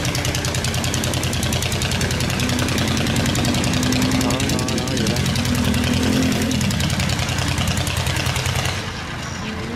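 A Vietnamese fishing boat's engine runs flat out with a loud, rapid, rhythmic thumping close by. Voices sound faintly beneath it, and the engine drops off slightly near the end.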